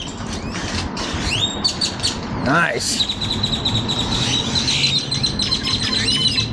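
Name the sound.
birds chirping in a park with trees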